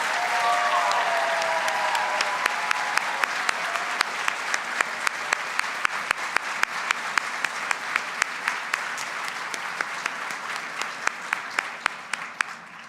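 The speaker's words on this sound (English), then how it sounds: "Let's show our admiration with a resounding round of applause." A large audience at a women in business awards ceremony applauds steadily, dense clapping that holds for several seconds and slowly thins, with sharper individual claps standing out.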